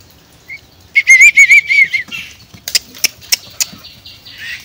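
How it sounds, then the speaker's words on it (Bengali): Freed myna birds flutter and call: a burst of sharp chirps and whistles, then several quick wing-flap thumps close by, with quiet pauses between. "সব শালিক পাখিগুলোকে ছেড়ে দিয়েছি।"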